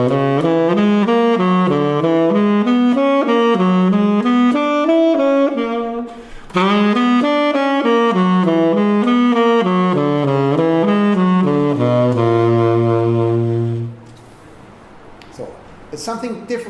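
An altered scale practised on a melodic instrument, running as a steady stream of clear, loud notes that climb and fall in quick succession, then settling on a held low chord before fading near the end.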